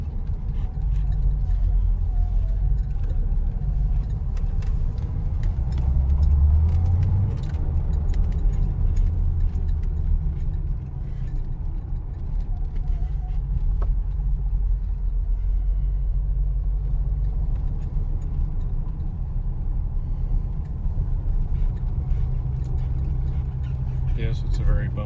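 A 1981 Corvette engine rumbles steadily as the car makes a slow turn on a bumpy driveway, a low continuous drone with small rattles and a person talking over it.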